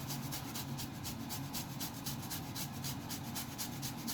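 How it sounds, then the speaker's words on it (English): Fresh ginger is grated for a Jamaican oxtail dinner, producing a steady, rhythmic rasping scrape in quick regular strokes, close and continuous for several seconds without any talking. "next up I'm going to grate some ginger"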